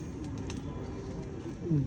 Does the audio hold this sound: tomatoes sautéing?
no